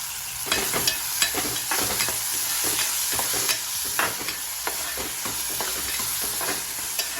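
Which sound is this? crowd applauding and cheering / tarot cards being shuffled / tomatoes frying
tomatoes frying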